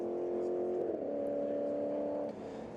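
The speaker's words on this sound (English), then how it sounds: "the rest of the field comes across the stripe here" Race cars in a GRIDLIFE GT event at Carolina Motorsports Park cross the finish line, a steady loud engine drone with a pitch shift partway through as cars pass, then fading slightly.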